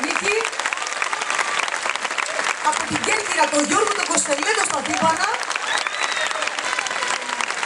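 A crowd claps warmly at an open-air theatre concert in Giannitsa. The steady applause continues throughout while a performer speaks over it into a microphone.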